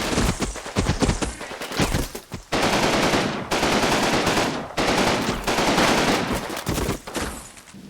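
Dense gunfire from a Combat Mission Red Thunder night battle against Russian positions with foxholes, sustained loud machine-gun bursts and rifle volleys rolling almost continuously with brief gaps.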